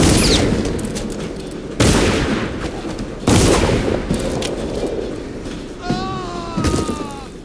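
Pistol shots ring out in the stealth action game Dishonored, coming as loud sharp bangs at about 0 s, 1.8 s, 3.3 s and 5.9 s over combat noise and scattered voices, with a ringing tone trailing the final shot.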